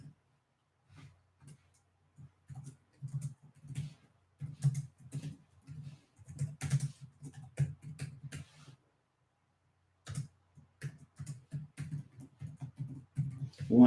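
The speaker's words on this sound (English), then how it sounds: "One second here while I'm typing this out." Typing on a computer keyboard, steady close key clatter in irregular bursts that pause briefly midway and then resume, with no talking over it.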